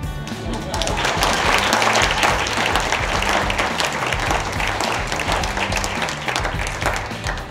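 Audience applause in a variety theatre for a freestyle world champion's act, dense clapping and crowd noise over booming music, loud and sustained throughout.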